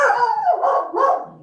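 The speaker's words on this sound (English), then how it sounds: "Sorry for the dog." A dog barks close by, a couple of loud, quick yelping barks with a slight howl, alone with no talk.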